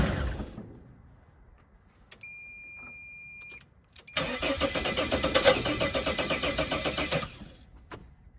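A Mercedes Sprinter van engine cranks and catches on starting fluid: a brief tone and clicks, then a loud rough idle bursts in, running unevenly for several seconds before cutting off.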